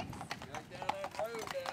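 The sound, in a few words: horse-drawn carriage trotting along the street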